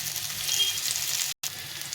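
Potato and pointed gourd fry in a pan with a steady, close sizzle and crackle, broken by one split-second gap.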